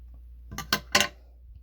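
Scissors snip the ends of a lace ribbon bow in three quick, crisp clips close by in an otherwise quiet room.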